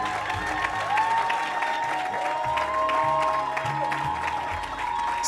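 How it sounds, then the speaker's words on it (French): A congregation at a French-speaking church service applauds to acclaim the Lord: steady, dense clapping from a crowd, fairly loud and sustained throughout, with some voices and musical tones underneath. "Est-ce que vous pouvez acclamer le Seigneur?"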